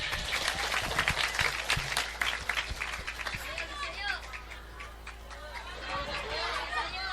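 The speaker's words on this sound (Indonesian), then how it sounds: "Tepuk tangan dulu untuk Ramadhani." Audience applause for a child performer at a religious gathering, a steady patter of clapping with crowd chatter and background voices mixed in, continuous and moderately loud throughout.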